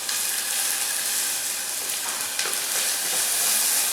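A quarter of an onion sizzles in a hot pan with a little canola oil, a steady bright hiss with no talking over it and a faint crackle rising near the end.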